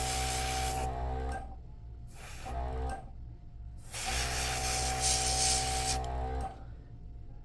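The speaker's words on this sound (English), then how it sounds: "I do like the One Air airbrush paint because it literally dries as you're spraying" A One Air airbrush sprays nail paint over a French-tip nail stencil in steady hissing bursts, several short puffs and then one long spray, with a constant compressor hum behind them.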